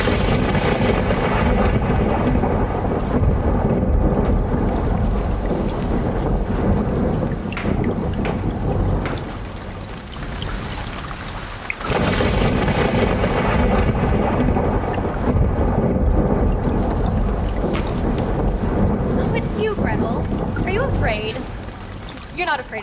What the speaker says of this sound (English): Of a thunderstorm, are you?